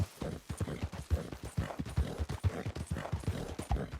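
Rapid rhythmic clip-clop of an Appaloosa horse's hooves at a gallop in a video game, close and steady, with a faint whinny-like sound under the beats.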